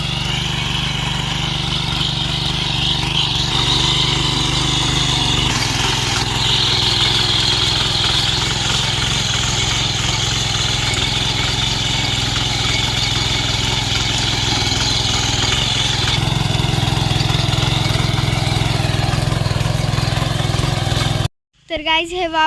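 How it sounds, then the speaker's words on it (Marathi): Steady mid-pitched diesel engine drone of a tractor ploughing a field, running continuously at close range with a brief break near the end, and a voice speaking over it. "आता पप्पा इथं त्या ट्रॅक्टरने वावर नांगरतात आहे."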